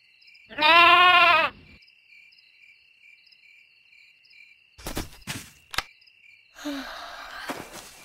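A single drawn-out bleat, close and loud, followed by scattered clicks and a rising breathy sound, with a faint steady insect-like hum throughout.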